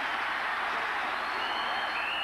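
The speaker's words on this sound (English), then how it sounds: "Crowd getting into it a little bit" Football stadium crowd at the 1989 Notre Dame at Michigan college game, a steady roar of cheering and applause from a huge crowd, distant and continuous throughout.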